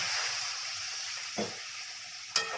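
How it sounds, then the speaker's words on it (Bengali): Bitter gourd stems and potatoes fry in a pan with a steady, fairly quiet sizzle, and two sharp stirring scrapes cut in near the middle and end. "এটাকে আমি ভালো করে কষে নেব"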